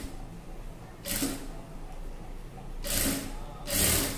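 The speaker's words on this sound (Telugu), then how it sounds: "ఇదిగోండి ఇలా చిన్న చిన్నగా కుచ్చులు పెట్టేసుకుని ఇలా స్టిచ్చింగ్ చేసుకోవాలి సన్నగా చిన్నగా" A sewing machine stitches gathered cloth for puff sleeves in three short, fairly quiet bursts separated by pauses, with soft room noise between runs.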